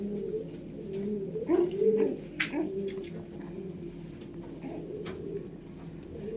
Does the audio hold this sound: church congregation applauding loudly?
no